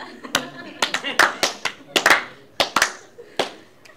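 A studio audience on the cooking comedy show Laughter Chefs claps in a loose, uneven burst of about a dozen sharp, separate hand claps, fairly close and moderately loud.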